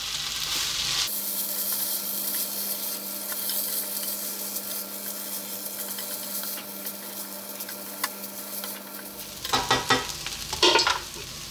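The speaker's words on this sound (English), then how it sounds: "Just give this a good stir." Rice with carrots being stirred in a pot for an Iraqi dish, a steady sizzling, scraping texture close up, with a louder clatter of the spoon against the pot near the end.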